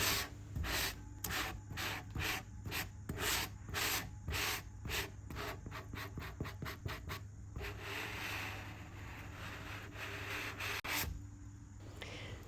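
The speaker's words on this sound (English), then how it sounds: "To get rid of the excess of the decoupage paper on all of the drawers, I used a sanding block" A fine-grit sanding block rubs back and forth over decoupage paper on wooden chest drawers in a steady rhythmic scratching, quick strokes close up, then a longer continuous rasp.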